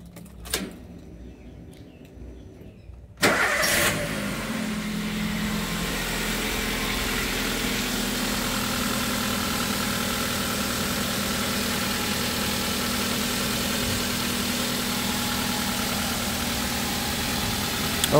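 A Toyota Avanza / Daihatsu Xenia engine cranks and catches after a few seconds of near silence, then settles into a steady, even idle that runs on unchanged, close by.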